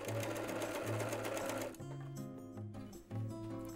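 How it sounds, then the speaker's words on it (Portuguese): An overlock serger machine stitches along a fabric edge, running in a steady fast whirring drone that changes pitch partway through. "E aí é só costurar."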